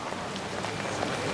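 Heavy rain pours down in a steady, dense hiss of drops pattering on surfaces, continuous and fairly loud with no pauses.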